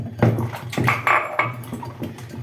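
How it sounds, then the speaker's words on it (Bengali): Mushrooms being washed in clean water in a home kitchen, with soft splashing and sloshing plus a few light clinks of a bowl or utensils, close and moderately loud with no talking. "মাশরুমগুলো ভালো করে পরিষ্কার করে জল দিয়ে ধুয়ে নিচ্ছি"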